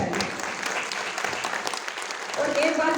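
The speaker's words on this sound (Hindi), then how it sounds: "ताली बजा के बताइए।" Audience applause at an award ceremony, a steady, dense round of clapping filling the whole stretch, fairly close, with a bit of voice rising near the end.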